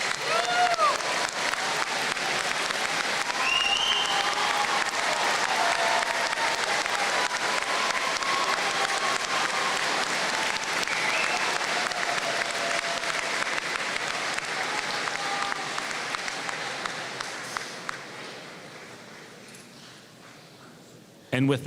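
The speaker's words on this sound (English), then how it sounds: "join me in applauding them" A commencement crowd at Cornell College applauds families, a broad, sustained wash of clapping from a large audience that holds steady before tapering off near the end.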